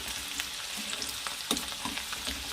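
Onion with cumin seeds frying in oil in a pan, a steady close sizzle broken by repeated stirring scrapes and soft taps of the spoon.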